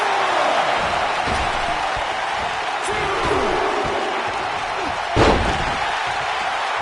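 A single sharp slam rings out as a wrestler's leg drop hits the ring canvas at a live SummerSlam event, set against a constant roaring arena crowd with commentary underneath.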